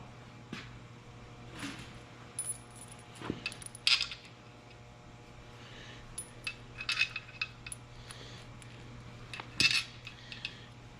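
Metal bolts clinking and rattling as they are set by hand into the holes of an engine case during a 12-valve Cummins rebuild: scattered light taps and jangles, close and fairly quiet.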